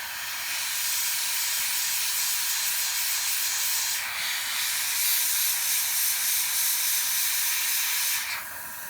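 An airbrush sprays paint while shading an Aragog spider model, giving a loud, steady close-up hiss that dips briefly midway and cuts off sharply near the end.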